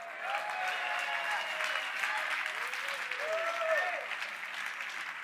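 Sustained applause from an audience at an advertising awards ceremony fills the room as a dense, even patter of clapping, with faint tonal music running underneath.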